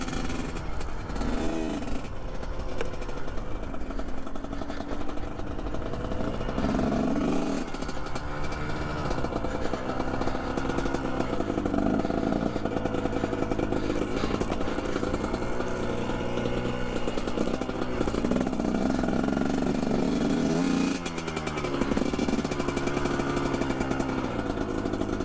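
A 2021.5 GPX Moto TSE250R motorcycle runs steadily on a first ride, its engine drone continuous and fairly close, with pitch rising and falling through gear and throttle changes and no talk over it.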